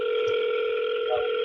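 A steady telephone tone on an outgoing call to a real estate wholesaling lead, continuous and unbroken with a faint background click, close and alone with no talk.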